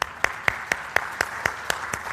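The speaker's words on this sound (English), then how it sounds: "so just start clapping" Slow, evenly spaced hand claps from a conference audience at an agriculture convention, about eight sharp beats in two seconds, moderately loud in a room.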